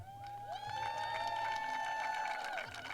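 Spectators at the women's team gold archery final in Cortina cheer for Germany, a crowd of whoops and shouts with a horn-like tone sustained over the cheering, moderately loud and steady.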